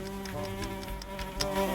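A housefly in the video game Time Flies gives a continuous, close droning buzz that holds steady throughout, with game sounds faintly underneath.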